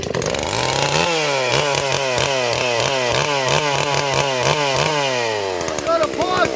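An MS440 clone chainsaw running from cold, its two-stroke engine snarling loud and close with repeated throttle blips that rise and fall in rapid, regular pulses before easing off.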